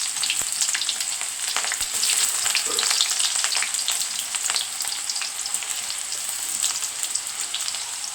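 Chopped onion hits hot oil already popping with mustard and fenugreek seeds, producing a bright, dense sizzle with scattered crackles, close and continuous.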